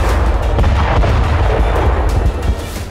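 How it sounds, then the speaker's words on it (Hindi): Loud, continuous rumbling blast from a rocket striking an Israeli tank on a road, a dense roar of booming debris and crackle that holds steady for about three seconds, no voices. "तभी एक रॉकेट इजराइल के टैंक से टकराता है और जोरदार धमाके के साथ टैंक तबाह हो जाता है।"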